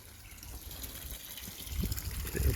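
Soft, continuous trickle of water running from a garden pond overflow outdoors, faint at first and growing slightly fuller toward the end.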